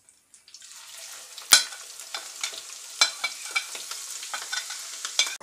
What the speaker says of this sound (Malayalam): ഇനി നമുക്ക് അടുത്തതായിട്ട് ഇഞ്ചി വറുത്ത് കോരാം